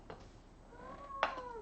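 A domestic cat meows indoors, a faint short mew followed by a clearer, louder drawn-out meow, with no other sound around it.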